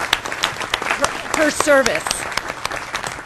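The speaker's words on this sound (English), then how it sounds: "a round of applause for" Audience applause at a board of directors meeting, a steady burst of clapping with a voice speaking over it partway through.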